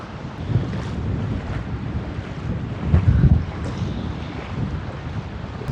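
Strong wind on an island beach buffets the microphone in a steady low roar, gusting louder midway, with a faint wash of surf behind it.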